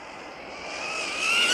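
Tamiya radio-controlled car running at full throttle, a high-pitched motor whine that swells steadily louder as it approaches, with no voices.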